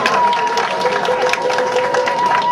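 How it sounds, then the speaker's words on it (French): An audience at a 30th anniversary celebration for a prophet claps in a dense, continuous wash of applause, with crowd murmur and a steady tone underneath. "Vous applaudissez déjà sans savoir comment il va nous montrer cette surprise?"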